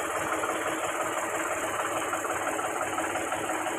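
A Mahindra 395 DI tractor diesel engine idles steadily up close, giving a constant rough, knocking rumble with no talk over it.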